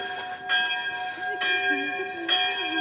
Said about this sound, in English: We can hear the bells ringing.